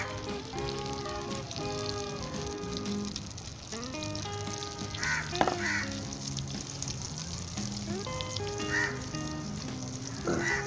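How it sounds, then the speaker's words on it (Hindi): A batter of egg and paneer fries in melted butter in a pan, giving a continuous loud sizzle and crackle that stays steady throughout, with faint kitchen sounds and music-like tones underneath. "अब इसके अंदर ये बैटर डाल दें सारा इसके ऊपर।"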